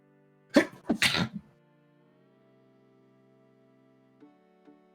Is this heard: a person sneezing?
yes